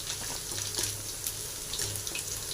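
Cauliflower pieces added to a hot pan with fried carrot for Andhra-style restaurant gobi fried rice hiss and sizzle steadily, close up, with a continuous watery crackle and small bursts.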